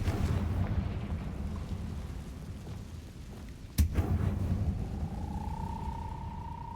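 A Confringo fire spell explodes in Hogwarts Legacy: one sharp, loud blast cracks out over a steady low rumble, then a thin tone rises and holds as the rumble carries on.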